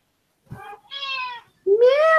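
A cat meows three times up close, a short chirp, a longer mid-pitched mew, then a rising drawn-out meow, with silence between and no talk.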